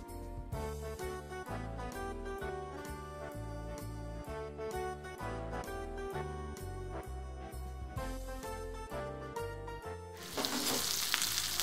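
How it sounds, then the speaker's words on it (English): A beef rib roast seasoned with salt and pepper sears in a pan on the stove. A steady sizzle sits under loud rhythmic background music and swells into a brighter, louder hiss near the end. "And now we're just gonna sear the beef on the stove."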